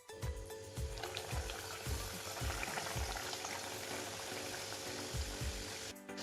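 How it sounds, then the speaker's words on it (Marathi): Karanji pastries deep-fry in oil, giving a dense, continuous bubbling sizzle with regular soft thumps from a utensil moving through the pan, close and steady throughout. "आता ह्या करंज्या आपण तळून घेणार आहोत"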